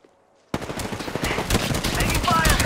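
Automatic weapon fire in the video game Apex Legends bursts in after a brief silence, rapid dense shots rattling close and loud, continuing steadily to the end with some clattering effects.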